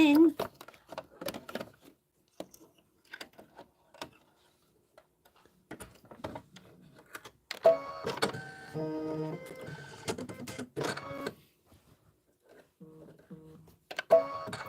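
Embroidery machine stitching linen fabric, bursts of fast rhythmic mechanical ticking between quieter gaps, with a voice talking at times.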